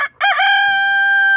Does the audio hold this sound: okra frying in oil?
no